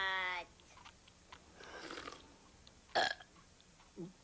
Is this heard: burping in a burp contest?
yes